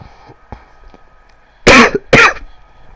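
A person with a cold coughs twice in quick, harsh bursts, loud and close to the microphone after a few quiet seconds of faint background noise.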